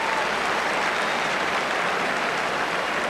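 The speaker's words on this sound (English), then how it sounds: "Just listen to this applause." A packed rugby stadium crowd applauds the All Blacks in a 2001 match against Scotland, a dense, steady roar of distant clapping with no breaks, as if heard from across the ground.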